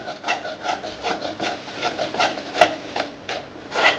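Instant idli batter stirred in a bowl after a splash of water, giving a steady run of close, rhythmic scraping and rubbing strokes with no talk.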